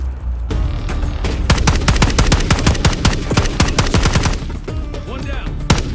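Rapid bursts of automatic gunfire in the shooter Call of Duty: Black Ops 6, loud and dense sharp cracks firing in quick succession for several seconds, briefly pausing then resuming.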